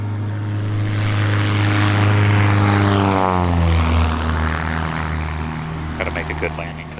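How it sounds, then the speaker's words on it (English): A Kitfox light propeller aircraft comes in to land at a small private airfield, its engine drone loud and close, with the pitch sliding down midway as power is reduced before settling into a steady hum. "Gotta make a good landing because Eric said his was better than mine"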